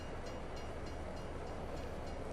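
A freight train from Farming Simulator 22 rolls steadily, a dense, continuous rumble with a faint rhythmic clatter of cars, loud and close with no speech.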